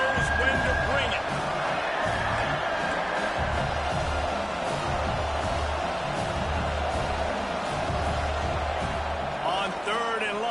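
A stadium crowd in the NCAA 26 college football video game, South Carolina vs Mississippi State, gives a steady loud roar of cheering throughout, with a commentator's voice running over it.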